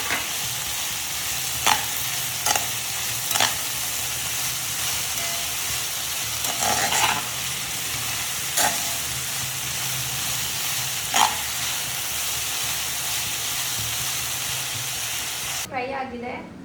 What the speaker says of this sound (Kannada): ಇವಾಗ ಆನಿಯನ್ ಜೊತೆ ಟೊಮೊಟೊನೂ ಹಾಕ್ತಾ ಇದ್ದೀನಿ. ಸೊ ಅದು ಚೆನ್ನಾಗಿ ಫ್ರೈ ಆಗಬೇಕಲ್ಲ.